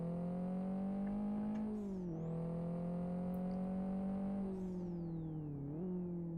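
Turbocharged Mitsubishi Evo rally car engine in the Live For Speed racing game, a steady loud drone with turbo whistle, shifting pitch as it drops and rises between gears, no talk.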